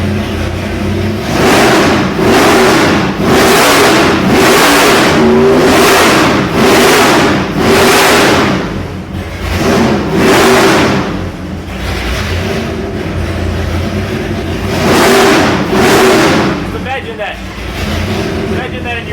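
Mean 572 cubic-inch big block Chevy crate engine with an Alien intake, revved repeatedly in loud, deep roaring bursts that rise and fall in a steady rhythm, close and dominating throughout.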